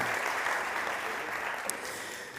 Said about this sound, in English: Big applause for Giuseppe.